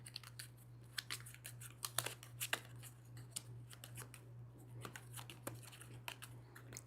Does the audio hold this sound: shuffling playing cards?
yes